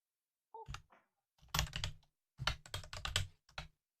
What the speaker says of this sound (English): Everyone can see what I'm typing right now.